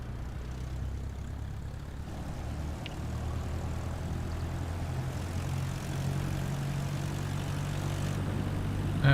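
Steady drone of a Cessna 172 propeller engine in flight in a flight simulator game, a constant low hum that holds evenly throughout with no talking.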